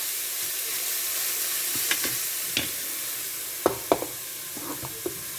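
Onion frying in a pan for stuffed fennel, a steady soft sizzle with a few scraping clinks of a utensil as it is stirred, close by and with no talking.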